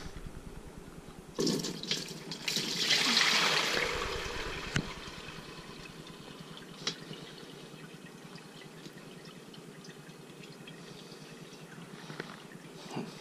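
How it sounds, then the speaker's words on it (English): Dark violet flower infusion is poured through a colander, a short splashing gush that swells for a couple of seconds and fades into faint trickles and drips in a quiet kitchen. "pour this through the colander"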